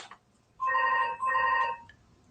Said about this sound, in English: Oh, can't get that phone.